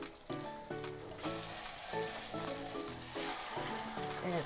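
Black pomfret fish goes into hot oil and fries with a soft, hissing sizzle, while tonal music notes play over it at moderate volume.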